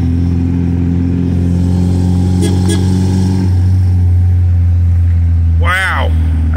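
MGB sports car with freshly adjusted SU HIF44 carburettor mixture, its engine revving loud and close with a rising surge partway through and a brief squeal near the end.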